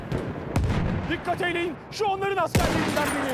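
Battlefield 1 gunfire comes as two heavy, booming shots about two seconds apart amid battlefield rumble, while a voice talks in between.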